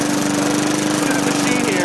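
Lawn mower engine running steadily in a backyard, loud and close with a constant drone and a few faint higher tones drifting over it.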